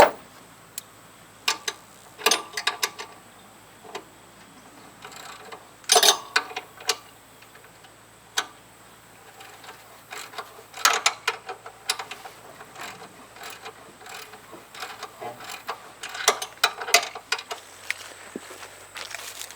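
Ratchet wrench loosening a 9/16 alternator bolt on a Ford truck. Bursts of rapid clicking ratchet strokes come in uneven clusters over a quiet hum, close and fairly crisp.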